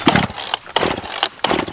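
A two-stroke chainsaw engine, run without oil, is pulled and fires in three loud, close bursts that sputter and cut out between them, with no talk.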